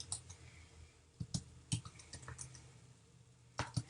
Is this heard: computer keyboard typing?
yes